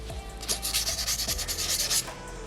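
Sandpaper rubbing over a small soapstone butterfly carving in quick back-and-forth strokes, a close, soft, rhythmic scratchy rasp with no talking.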